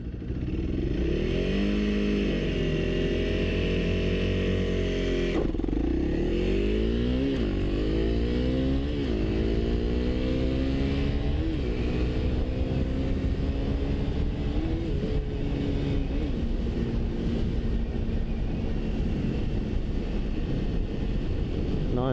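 A 2025 Honda CRF300L motorcycle accelerates from 0 to 60, its engine note climbing repeatedly and dropping at each gear shift, with steady wind noise over the microphone throughout.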